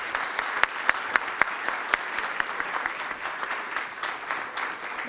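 An audience at a talk in Argentina applauds steadily, with a dense patter of clapping and a few sharper individual claps standing out, holding even across the whole stretch.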